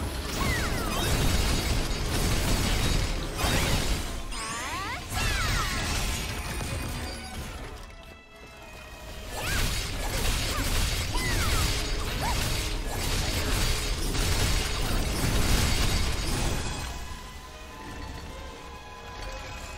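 Chaos Core being destroyed in Ni no Kuni: Cross Worlds, a dense run of mechanical grinding, clanking and shattering crashes. The noise stays loud and busy for about twenty seconds, dips briefly near the middle, then surges again.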